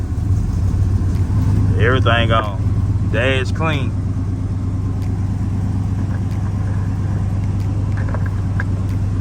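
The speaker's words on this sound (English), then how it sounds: "Start the truck up." A 2000 Cadillac Escalade with a 5.7 engine and a cold air intake runs at a steady, loud idle throughout, a low continuous rumble, while someone speaks briefly over it.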